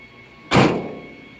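A rear door of a Ram Promaster-based Hymer Aktiv 2.0 camper van swings open past a Swagman XC cross-country bike rack: one sudden close thunk and rattle that fades over a second.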